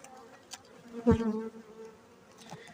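Honey bees hum in a close, wavering drone around an open hive that swells loudly for a moment and then settles back into a softer background buzz.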